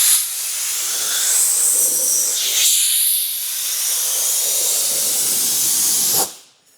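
Compressed air blasts steadily against a car tire to dry it after Feynlabs Black Velvet tire sealant is applied, a loud, continuous hiss that shifts slightly in tone midway and then cuts off abruptly near the end.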